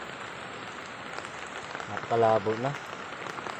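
Steady rain falling near a creek, a constant hiss of drops on surfaces throughout, with someone briefly speaking over it midway.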